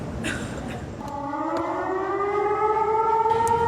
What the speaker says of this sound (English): Sirens blaring across UNC campus.